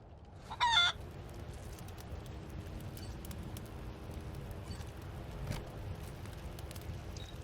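A cybernetic chicken in Wasteland 3 gives one short, loud cluck near the start, then only a low, steady ambient background remains.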